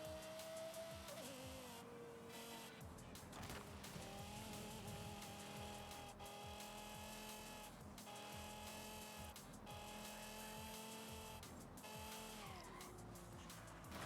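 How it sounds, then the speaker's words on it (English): Game engine note of a 2010 Lexus LFA in a racing video game, a steady high-pitched whine rising and falling through gear changes, continuous and fairly loud for the whole stretch with no talk. "doesn't it sound like I've got a table saw with a faux engine noise going on here?"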